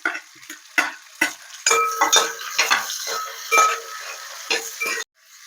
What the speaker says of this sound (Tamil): இது கூடவே வந்துட்டு இஞ்சி பூண்டு இதையுமே சேர்த்து வதக்கிக்கலாம்